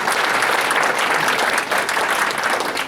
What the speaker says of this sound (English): Can we give Adonis a round of applause